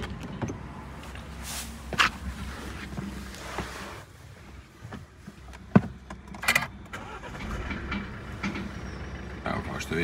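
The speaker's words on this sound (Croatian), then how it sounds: "Sad ću vam pokazati kako auto radi." A Suzuki SX4 S-Cross diesel 4x4 fires up and settles into a steady idle, a low continuous rumble with a few sharp clicks and knocks over it, heard close by.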